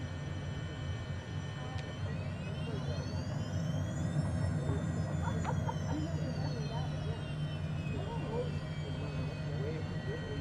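HondaJet taxiing in Microsoft Flight Simulator 2020: a steady jet engine whine and low rumble continuing throughout, with a tone that rises and falls gently, while someone talks over it.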